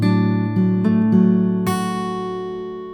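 Acoustic guitar fingerpicked over a D/A chord shape, several plucked notes in a gentle sequence ringing together and ending on the high string, left to sustain and slowly fade, close and clear.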